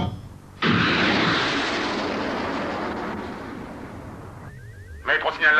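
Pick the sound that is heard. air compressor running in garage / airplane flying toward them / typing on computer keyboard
airplane flying toward them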